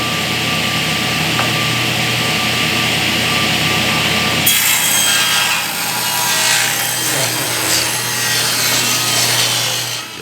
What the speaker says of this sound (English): So we've set our saw to 3/4 of an inch between the fence and the blade.